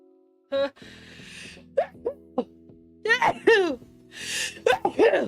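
A sharp sneeze bursts out among gasps and vocal noises during a Fortnite game, with a steady low hum in the background; someone makes several short exclamations around it.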